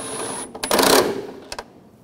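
Nuts being snugged down on a transmission mount bracket of a 2013-2019 Ford Escape 2.0L, a few short metallic ratchet bursts and clicks close up, separated by brief pauses.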